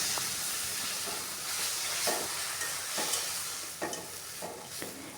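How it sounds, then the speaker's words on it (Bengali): Ground spice paste with garlic and ginger frying in ghee for a mutton roast, a steady close sizzle broken by regular scraping strokes of a spoon stirring about once a second. "ভালো করে মশলাটাকে কষাতে হবে।"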